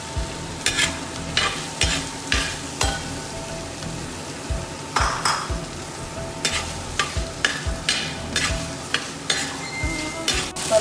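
A small bowl of onions with ginger-garlic paste frying in a pan for kappa biryani, a steady sizzle broken by frequent rhythmic scraping strokes of a spoon stirring against the pan.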